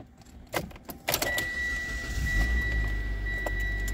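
A 2015 Mitsubishi Lancer Limited starts up after a few clicks and key jingles, the engine catching and settling into a steady low idle with a faint high whine, close inside the cabin and without talk.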